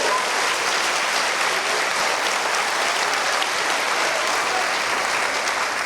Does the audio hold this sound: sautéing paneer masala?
no